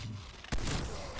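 A single sharp, loud gunshot goes off in a video game shooter, cutting through a dense, noisy background mix.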